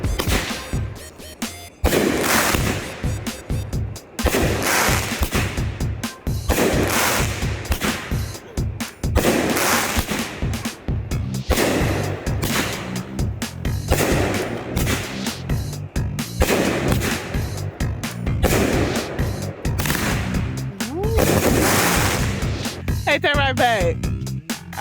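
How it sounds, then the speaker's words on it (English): A neighbors' Juneteenth fireworks show bursts in rapid succession, with loud, sharp booms and crackles repeating densely and nearly continuously, sounding close and powerful. "Our neighbors got a good fireworks show tonight."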